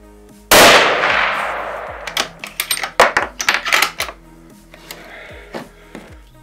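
A single loud, close rifle shot rings out from a Mauser M12 Max firing Remington 150 grain factory ammunition at a 100-yard range. The boom decays, followed by a string of sharp metallic clanks and clicks as the bolt is cycled.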